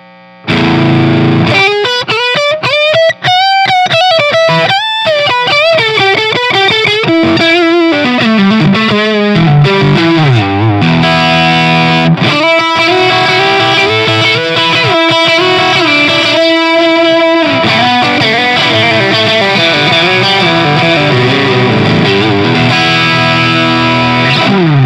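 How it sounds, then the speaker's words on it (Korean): Overdriven electric guitar, a Bacchus BSH on its middle pickup, playing a long distorted solo of bending lead lines and sustained notes at steady, loud volume with no voices. "미들 픽업 드라이브 사운드입니다."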